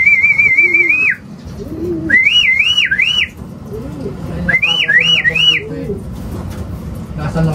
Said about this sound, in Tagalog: Yan mga kalapatids, yung ibon namin